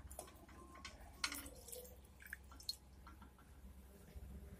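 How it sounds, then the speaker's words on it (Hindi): Half a cup of full-cream milk goes into a pan, making faint, brief dripping and splashing sounds over a low steady background hum. "हम लोग डालेंगे एक आधा कप दूध"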